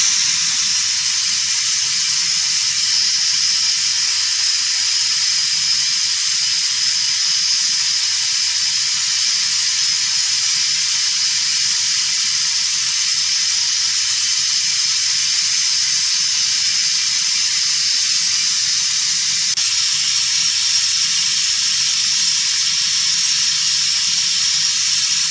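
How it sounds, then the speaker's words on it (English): A Central Pneumatic 92924 vacuum brake bleeder draws brake fluid out of a brake bleeder with a steady, continuous hiss and airy suction that runs unbroken and fairly loud throughout. "it sucking the whole time while I'm closing the bleeder off till it's completely closed"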